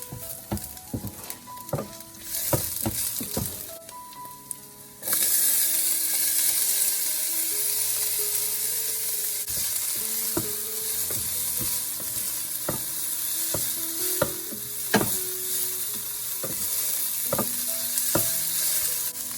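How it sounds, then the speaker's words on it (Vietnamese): Minced shallot, garlic, Chinese sausage and vegetables stir-fry in hot oil for fried rice, giving a steady loud sizzle broken by repeated scraping and clanking of a spatula against the pan. "Dầu nóng mình cho hành tỏi băm vô xào thật thơm."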